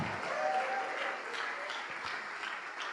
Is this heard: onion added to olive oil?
no